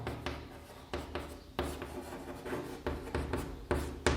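A pen or chalk draws line CE in a geometry construction for similarity theorems, with repeated short scratchy strokes in an uneven rhythm, close and quiet with no talk.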